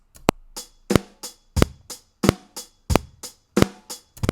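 A quantized eighth-note drum beat plays back at an even tempo, punchy kick and snare hits alternating in a tight, repeating loop with no other sound.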